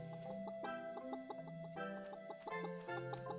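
Chickens clucking in the farming video game Pumpkin Days, short repeated clucks over a steady musical background, moderately quiet with no talking.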